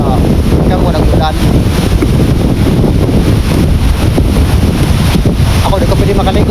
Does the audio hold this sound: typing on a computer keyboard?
no